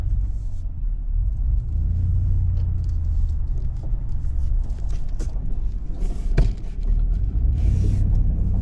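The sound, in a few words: Ford Super Duty pickup truck towing up gravel in 4-wheel drive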